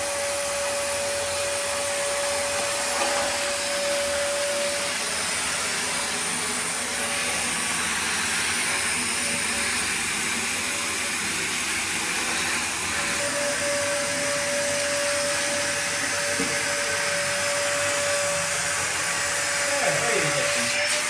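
A vacuum cleaner sucks up debris inside underground siege tunnels beneath Dover Castle, a steady loud whooshing drone with a constant whine, running throughout with faint voices underneath.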